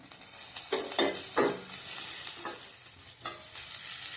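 Ghati masala and chili powder roast in hot oil in a pan, a soft continuous sizzle broken by a few louder scraping stirs of a spoon, fairly quiet and close.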